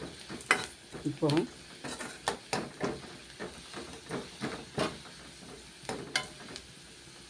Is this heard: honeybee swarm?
no